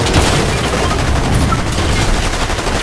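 Dense rapid gunfire in the video game Fortnite, loud continuous overlapping shots and blasts filling the whole stretch.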